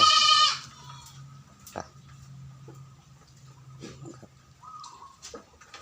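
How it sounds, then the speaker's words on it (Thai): A young goat gives one loud, close bleat at the start, and then the herd of small goats feeds on lead tree leaves with soft rustling, faint ticks and occasional distant bleats. "จุดนี้ก็เป็นแพะเล็กๆนะครับผม จะกินกระถินทั้งนาบ้านนะครับ"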